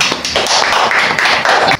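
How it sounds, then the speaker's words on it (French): Dense clapping from a group at home, a steady patter of many hands slapping together for nearly two seconds before cutting off abruptly. "Est-ce que vous pouvez applaudir là-bas à la maison?"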